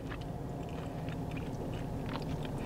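Beef flank meat with a soy sauce marinade is chewed up close, with soft, wet, repeated mastication sounds in a steady rhythm.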